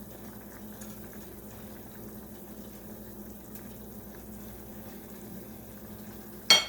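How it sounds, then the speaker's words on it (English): Pork tenderloin in mushroom gravy simmers in a pan with a faint, steady bubbling hiss, ending with a brief sharp clatter. "now just let that simmer for another about 10 minutes"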